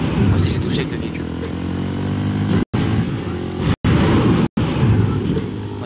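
Motorcycle engine in the Fortnite battle royale video game, a loud continuous droning rev heard close alongside other engine noise, with a player talking over it and the sound briefly cutting out several times.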